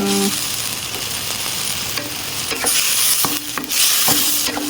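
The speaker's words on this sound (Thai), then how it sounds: "แต่อันนี้จะผัดให้สุก ผัดให้สุกเลย" Chinese kale stir-fries in a pan with fresh and dried shrimp, a loud close sizzle broken by repeated metallic spatula scrapes and clanks against the pan, with no one talking.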